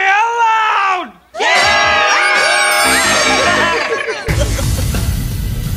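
A crowd on a radio show screams and whoops loudly in unison, a shrill burst that drops off briefly and then returns as sustained shouting before fading into noisy cheering.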